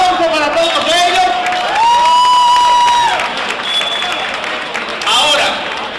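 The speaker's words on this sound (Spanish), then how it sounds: "un gran aplauso para todos ellos." A convention crowd at an anime and Japanese culture event cheers, whoops and applauds, loud and close, with shouted voices and high calls over a rumble of clapping.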